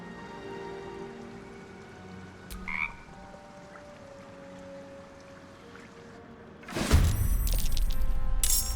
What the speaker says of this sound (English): It shies away, croaking a warning, eyes wide in terror.